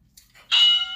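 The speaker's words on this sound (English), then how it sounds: "So wait for the bell." A home fitness workout timer sounds its bell, a bright ringing tone that starts abruptly and holds steadily near the end, with quiet room sound before it.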